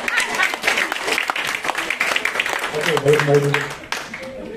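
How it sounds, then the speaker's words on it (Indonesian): An audience claps in applause while people talk over it, the clapping blending into a busy, loud room with voices throughout. "Terima kasih untuk tepuk tangan"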